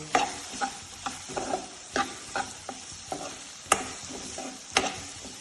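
Gram flour roasting in oil in a pan over a low flame: a spoon scrapes and taps in irregular strokes over a faint, quiet sizzle.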